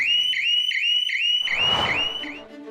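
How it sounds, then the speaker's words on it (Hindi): Electronic anti-theft shop shutter alarm in a repeated shrill two-tone electronic warble, several quick cycles, loud and close, with a burst of broadband noise midway and fading toward the end. "डिजिटल सुरक्षा शॉप्स के लिए ऐसे शटर अलार्म्स बनाती है"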